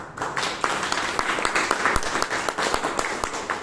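Audience applause fills a Toastmasters meeting room in Bangalore, a dense, steady wash of many hands clapping at close range, with sharper individual claps popping out through the whole stretch.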